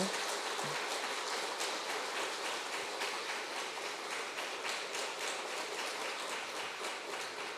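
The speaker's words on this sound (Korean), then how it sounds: "우리 한번 박수로 한번 격려해 주시면 감사하겠습니다" Applause in a church service for a returning missionary, a steady, even wash of many hands clapping at moderate distance throughout, without any pause.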